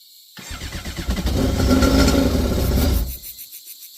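X2 two-stroke engine firing up after choking, catching from a few sputters into a rough, loud burst of running and revving for about two and a half seconds before cutting out abruptly, close by with no talk.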